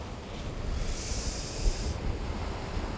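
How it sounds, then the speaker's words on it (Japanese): Waves breaking on a rocky cobble beach in Fukuoka come through as a steady low wash with wind noise, and a brighter surge of surf rises in the middle of the recording. No one speaks. "思ったより波あるな。"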